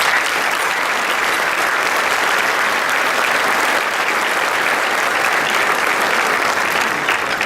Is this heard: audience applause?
yes